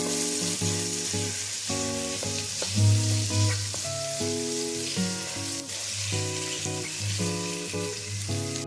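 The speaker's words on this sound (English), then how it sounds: "Now I'm going to add my tomato paste to it, and we're just going to let that cook down." Tomato paste sizzling as it cooks down in a pot for slow cooker pot roast, a steady close sizzle over a humming, tonal background with faint stirring knocks.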